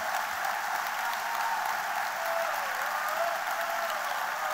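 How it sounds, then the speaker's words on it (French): A seated audience at a political speech in Marche-en-Famenne claps warmly and steadily, a constant even wash of applause heard from a distance. "Merci de les applaudir chaleureusement."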